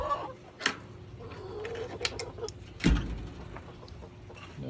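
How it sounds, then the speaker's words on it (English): Chickens clucking sporadically nearby, short scattered clucks over a quiet background with a few soft knocks. "Chickens are doing well."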